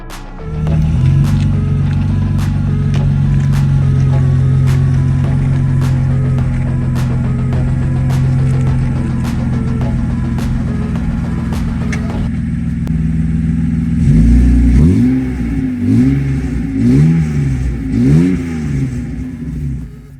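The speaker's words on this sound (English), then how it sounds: "I put a little J-pipe just to see what it would sound like, and it doesn't sound too bad." A BMW 318ti drift car idles loud and close through a short J-pipe exhaust with a rough, raspy drone and a regular ticking, then blips the throttle in a series of repeated revs.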